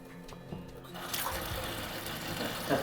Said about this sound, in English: So we will operate the faucet.